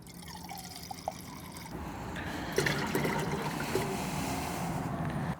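Distilled white vinegar poured into an apple-juice BBQ injection mix, a soft liquid trickle and splash that swells midway and carries on steadily, close and moderately quiet.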